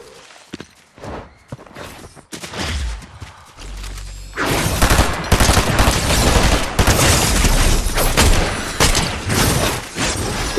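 Rapid, sustained bursts of automatic drum gun fire in a Fortnite match, loud and close, with dense overlapping shots and impacts building into a continuous barrage in the second half.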